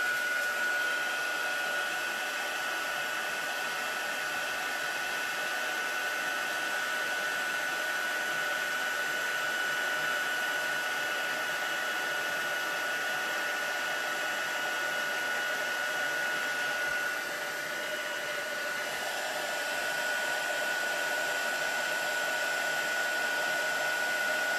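A craft heat tool runs continuously while heat-setting embossing powder, a loud, even blowing hum with a steady whine, close by and uninterrupted, with a slight shift in tone partway through.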